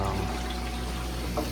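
Water runs steadily inside a Manitowoc ice machine that is not producing ice, a low continuous flow with a mechanical hum beneath it and a faint splash near the end.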